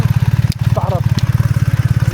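A BMW GS 1300 motorcycle engine pulses in a steady, loud, close rhythm, running near idle without a clear rise in revs, while a voice speaks briefly over it.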